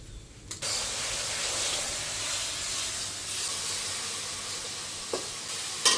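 Cumin and coriander spice paste frying in oil for a shol fish and mango curry, with a steady loud sizzle and hiss throughout and a few brief spoon scrapes as it is stirred.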